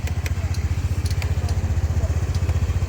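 A Honda Dio 110 JF31 fuel-injected scooter engine idles close by with a steady, rapid putter, even and fairly quiet, running alone without talk.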